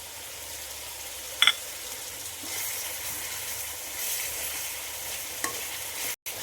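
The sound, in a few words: chicken meat frying and stirred with green chillies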